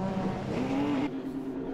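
Rallycross cars, including an old Ford Escort on pole, launch into the final race, their engines revving hard and rising in pitch as they pull away, with a commentator talking over them.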